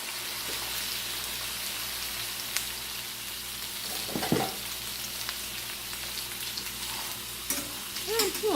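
Pork sizzling and frying in a hot pan, with steady crackling and occasional stirring scrapes, close and moderately loud with no talking.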